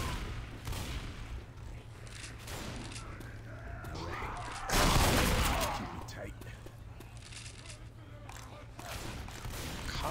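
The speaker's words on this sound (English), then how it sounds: "Combat shotgun. Isn't that what I'm using?" Combat shotgun fire in the zombie game Left 4 Dead 2, with one loud blast near the middle standing out above a busy mix of game noise and talk.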